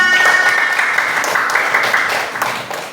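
Children in a classroom clap together for about three seconds, a dense steady patter that slowly fades, with no talking over it.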